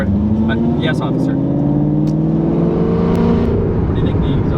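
A Ford GT driving along, its engine and exhaust a steady, loud low drone heard from inside the cabin, with the pitch slowly rising as it pulls, while people talk over it.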